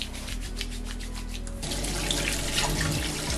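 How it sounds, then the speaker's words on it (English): Hands washed under a running kitchen tap, close steady water streaming and splashing with rubbing, the flow growing fuller and louder halfway through. "First step is to wash our hands."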